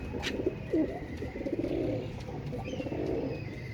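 Pigeons kept as a breeding pair coo in a low, soft, repeated murmur close by, with a faint chirp early on and steady background hiss.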